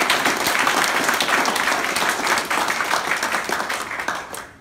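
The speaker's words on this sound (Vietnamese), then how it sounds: "Rồi mời các chị cho Bi Chân Đi một tràng vỗ tay." Dense, steady audience applause fills a seminar room, many hands clapping loudly and continuously before tapering off at the very end.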